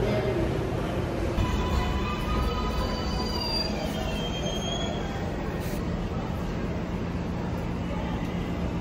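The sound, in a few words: New York 7 metro train running, wheels squealing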